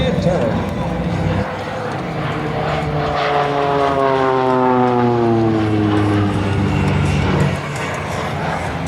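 Propeller aerobatic plane of the Esquadrilha da Fumaça at an outdoor airshow, a loud continuous engine drone with its pitch sweeping down and back up during a low pass and climbing manoeuvres, with crowd and wind noise around it.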